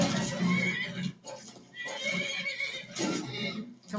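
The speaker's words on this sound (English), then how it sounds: "Leave my horse alone" A horse in the video game Skyrim whinnies loudly several times, shrill neighs mixed with clip-clopping hooves close by, with no speech over it.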